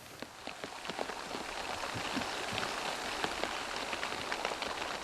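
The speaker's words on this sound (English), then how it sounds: "The rain's starting to get a bit heavier." Steady rain falling on a ceramic bowl outdoors, a dense patter of drops with bright, ringing taps scattered through it and building slightly heavier.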